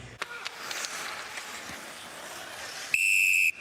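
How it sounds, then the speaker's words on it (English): At an ice hockey world championship game between Russia and Sweden, a referee's whistle sounds once, a sharp steady tone lasting about half a second near the end, over faint arena crowd noise. "Whistle."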